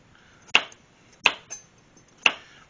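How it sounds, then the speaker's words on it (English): A knife slices through carrots on a cutting board, three sharp crisp chops spaced about a second apart, close and clear with a light tap between them. "I'm just going to go again with my knife"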